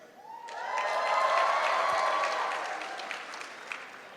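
Applause from a gala audience swells quickly, holds as a broad wash of clapping for a few seconds, then tapers off with scattered claps, moderately distant and without speech over it.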